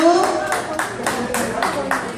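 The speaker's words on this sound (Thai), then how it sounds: "ขอเสียงปรบมือดังๆ" Audience applause swells in repeated bursts of clapping, with a voice talking over it through the short stretch.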